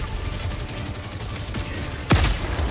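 Gunfire rattles steadily through a Helldivers 2 battle, and a heavy mortar impact booms loudly near the end, all dense and continuous with no talk.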